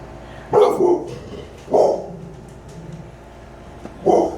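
A dog barks indoors in three separate short bursts, loud and close, with quiet pauses between them and no talking.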